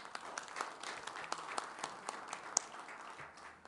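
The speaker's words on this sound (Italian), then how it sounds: "dovremmo fargli un grande applauso in questo momento" A small crowd at a press conference in Rome claps together, a steady spatter of hand claps heard at low level and slightly distant, with no talking.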